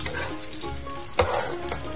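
Oil heating in a pan for chicken asado gives a steady, close hiss of sizzling, with a brief louder crackle burst midway.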